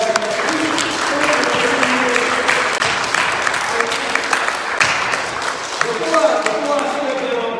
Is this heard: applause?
yes